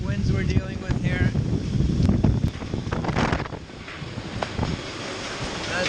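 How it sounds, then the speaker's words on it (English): Strong wind gusts buffet the microphone aboard a boat during a severe storm, roaring and fluctuating in bursts, with a voice talking over the noise. "You can see here crazy winds we're dealing with here."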